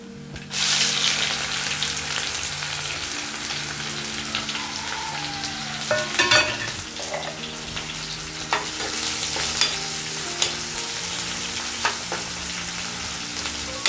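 Onion and green chillies fry in hot oil for a small fish curry, a loud continuous sizzle close by with occasional stirring scrapes, no talking.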